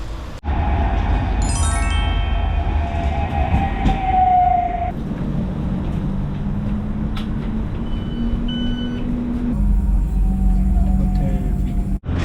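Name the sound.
tram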